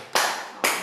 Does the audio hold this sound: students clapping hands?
yes